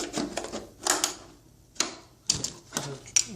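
Snips cutting the plastic return edge of Stormtrooper armor, a series of sharp crisp clicks and crunches at irregular intervals, close and moderately loud, with brief quiet gaps between cuts.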